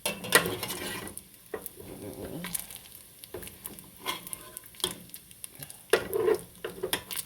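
Food sizzles and crisps in a pan for potato soup topping, a steady fry broken by several sharp scrapes and clatters of stirring up close.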